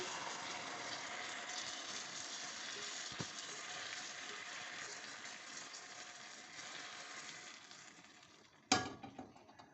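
Cold milk poured onto hot caramelized sugar in a pan sets off a steady loud sizzle and hiss that slowly fades, ending in a sharp clatter near the close, with no talking.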